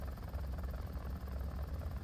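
Helicopter engine and rotor in the War Thunder game, a steady low droning whir held loud and unbroken throughout as the damaged craft heads for a crash landing.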